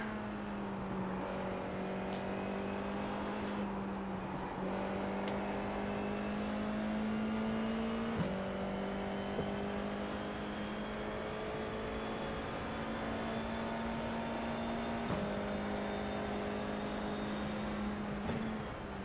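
A Formula 4 race car lapping Phillip Island Circuit: a loud, sustained engine drone held at a steady pitch, broken by brief dips and shifts that sound like gear changes.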